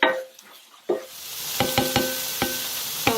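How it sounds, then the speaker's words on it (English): A kitchen oven, heated and ready for baking lasagna, gives off a series of sharp metallic pings and ticks, about half a dozen ringing clicks spaced irregularly over a quiet room tone. "That's our oven that just makes that noise."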